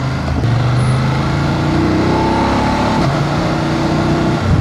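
A BMW F850GS adventure motorcycle pulls away in first gear, its engine note climbing in pitch and loud throughout, with a brief shift in tone near the middle.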